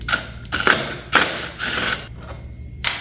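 Bolt being loosened from the fairing of a 2008–2016 Yamaha R6 with a hand tool, giving close, rapid ratcheting clicks in several bursts separated by short pauses.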